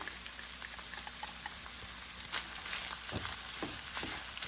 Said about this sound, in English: I'm going to add the onion to it that I chopped up and let these fry